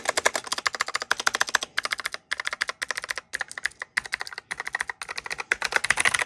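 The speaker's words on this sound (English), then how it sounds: "Very clicky keyboard." Rapid bursts of keystrokes on a clicky mechanical computer keyboard, close and crisp, with brief pauses between runs of typing.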